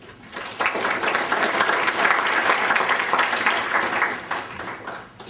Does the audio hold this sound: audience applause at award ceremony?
yes